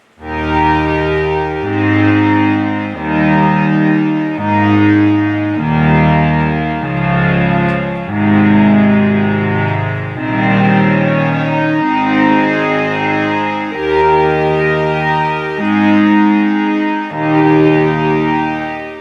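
A restored and freshly calibrated Memorymoog Plus analog polyphonic synthesizer plays a rich, sustained chord progression. Loud and steady, the thick chords change roughly every second or so, with no talking over them.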